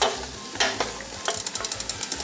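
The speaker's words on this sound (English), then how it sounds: "as it heats so that the garlic won't burn and the pieces will get evenly sauteed" Chopped garlic sizzling in a hot pan on a stove over medium-low heat while a utensil stirs it, a steady close frying hiss broken by a quick run of rhythmic scraping clicks.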